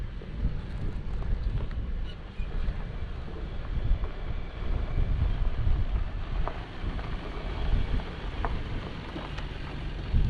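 A rented Jeep drives along a back country byway near Las Vegas, its steady low engine rumble and road noise mixed with strong wind buffeting the microphone throughout.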